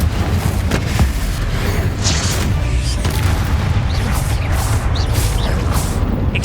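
Rumbling booms and crashing blasts from Confringo spell explosions in Hogwarts Legacy, a dense continuous low-heavy roar with scattered whooshes, loud and close, with no talking.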